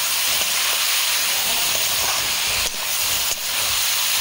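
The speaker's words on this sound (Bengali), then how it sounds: "আমি এখানে এবার চাপা দিয়ে মাংসগুলো ভাজছিলাম" Goat meat frying under a lid in a pan, a dense steady sizzling hiss that fills the whole moment, with a couple of brief dips where the cover or pan shifts.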